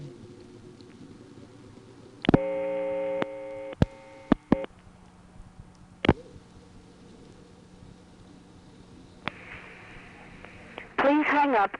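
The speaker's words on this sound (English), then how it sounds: "let's hear the recording for partial dial." Partial-dial intercept on a 1976 No. 1 ESS telephone exchange line in Allentown, PA: a series of steady multi-tone bursts broken by sharp line clicks, then a quieter hum and faint chirping tones near the end.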